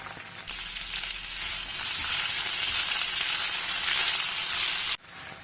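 Sliced onions hit hot oil tempered with whole spices and burst into a loud, dense sizzle that holds steady close by, then drops off sharply near the end.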